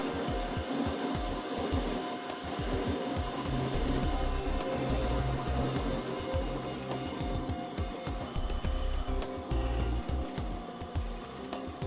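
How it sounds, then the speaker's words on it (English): A CEREC milling machine's burrs grind a porcelain dental restoration from its block, a dense continuous whirring and rasping with fine rhythmic ticks throughout. "as the milling process nears completion, the burrs cut the restoration from the block"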